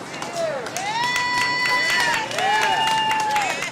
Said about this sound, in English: Seeing volunteers and doctors arrive, those waiting in line cheer for the upcoming medical attention.